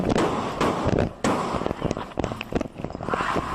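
Police open fire on the tires of a wanted suspect's car after it rams an unmarked police vehicle, letting off a rapid string of sharp, loud cracks in bursts, with traffic noise behind.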